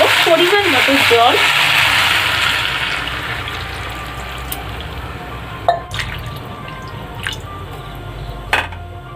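Water is poured into a pan of sizzling fish curry with cauliflower and potato, giving a loud gurgling splash that fades into steady frying hiss with a few soft clinks.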